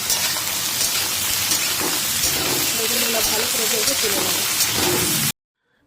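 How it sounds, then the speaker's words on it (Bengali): Steady, loud sizzling of eggplant pieces frying in hot oil, a continuous crackling hiss that cuts off abruptly near the end. "তেল যেই গরম হয়ে যাবে দেখুন এর মধ্যে দিয়ে দিচ্ছি আমি প্রথমে বেগুনগুলোকে"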